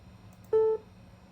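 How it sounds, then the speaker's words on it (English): A single short Simple Beep alert from classic Mac OS on a Power Mac G3, clear and tonal, lasting about a quarter second against quiet background hum. "Simple beep was the default."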